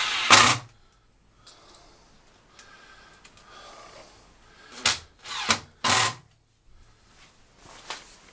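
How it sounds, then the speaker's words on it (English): A power driver sets screws into a wooden turning blank in a woodworking shop, giving a few short, sharp whirring bursts close by, spaced with quiet pauses between them. "all I'm doing is put a couple of screws in to hold it since I'm not turning it yet"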